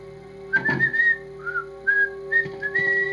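Someone whistles a short tune nearby, clear bright notes in a halting melody with brief pauses between phrases.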